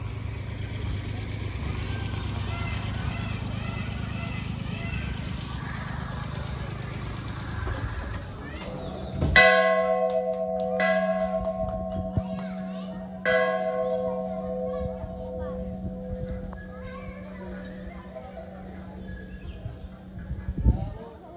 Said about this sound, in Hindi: देखा भाई कितना बड़ा घंटा लगा हुआ है, सवा कुंटल का, सवा मन का घंटा लगा हुआ है प्रांगण में है